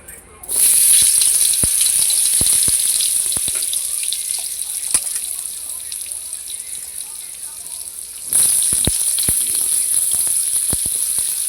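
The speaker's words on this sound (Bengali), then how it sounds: "এরপর আমরা পটল আর আলুটাকে প্রথমে ভেজে নিচ্ছি।" Pointed gourd and potatoes sizzle and crackle in hot refined oil, a loud steady hiss with scattered pops that briefly softens before surging again.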